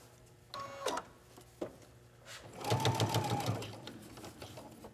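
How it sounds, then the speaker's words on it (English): A domestic sewing machine stitches fabric for ruching, running in short bursts then a longer steady whirring run with a rhythmic needle chatter, close and clear with no talking. "let me sew to the end of this one"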